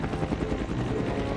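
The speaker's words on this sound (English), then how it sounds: "That's a lot of helicopters." Several helicopters in a Jurassic Park film scene, a loud steady thudding rotor roar filling the whole moment with no talk over it.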